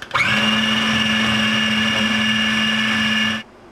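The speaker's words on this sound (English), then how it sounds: "Okay, I've got my onions in the blender. It's just a small blender." A small kitchen blender chops onions with a loud, steady whirring drone that starts sharply, holds for about three seconds, then cuts off abruptly.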